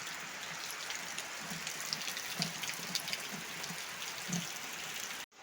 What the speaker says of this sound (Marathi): पाऊस लागतोय तुम्हाला दिसत नसेल कारण काळोख आहे खूप तर पाऊस आलाय